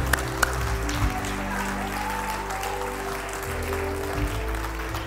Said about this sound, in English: give God your best hand clap of praise